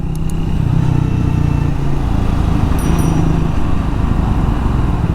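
A Triumph Speed 400 motorcycle threads through heavy traffic, its engine giving a loud, continuous rumbling drone close by with no talk over it.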